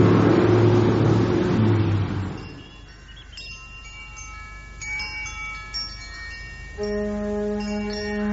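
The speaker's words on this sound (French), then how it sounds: "La voiture arrive." A car engine approaches and rolls up, its rumble loud at first and then fading, followed by quieter tonal background sounds.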